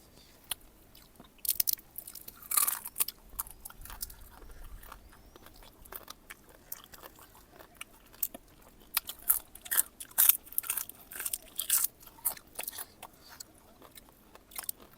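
Crunchy crab shells, fried crab 65, crackle and snap between the teeth in close, uneven bursts of chewing and biting, fairly faint over a quiet background.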